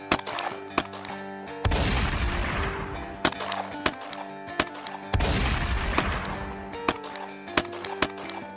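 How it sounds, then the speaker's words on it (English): Scattered sharp gunshots crack out one after another, with two longer rushing bursts of fire, over a low sustained tone. "arrived at the back entrance of the bank and immediately started exchanging gunfire with Billy Birt."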